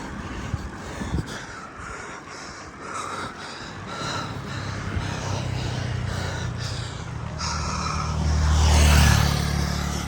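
A car passing on a mountain road at an early hour, a low rumble building to a near, loud swell toward the end before easing, with close breathing audible throughout.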